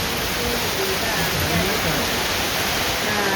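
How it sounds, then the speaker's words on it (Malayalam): Heavy rain pours steadily with strong wind, a dense, constant hiss of rainfall that stays loud and unbroken throughout, with no clear voices over it. "ഞെട്ടിക്കുന്നൊരു മഴ, ഇത്രയും വെയില് തന്നേന് നല്ലൊരു മഴ. മഴ മാത്രല്ല, കാറ്റും ഇടി."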